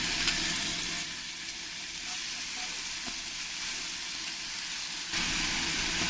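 Onion paste and ginger, garlic and green chili paste fry together in a pan for a spicy quail curry, giving a loud, continuous, close sizzle with no talking.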